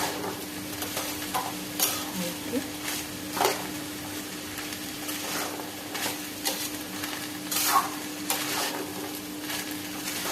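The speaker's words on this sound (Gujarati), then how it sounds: "આપણે એને હવે મિક્સ કરી દઈશું અને ધીમી આંચે એને આપણે શેકાવા દઈશું" Samosa potato filling is stirred and roasted over low heat in a pan, with a soft steady sizzle and repeated scraping and stirring strokes close by, moderately quiet.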